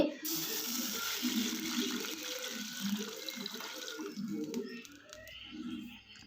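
Boiled milk, about half a litre, poured into ghee in a pan for Tamil bread halwa, giving a steady liquid pour and sizzle that lasts most of the stretch and then tapers off near the end, close and fairly loud with no talk.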